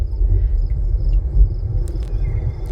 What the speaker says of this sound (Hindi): ये जो बादलों के गरजने की आवाज आई है ना, वो एकदम फील हो रही है सीट में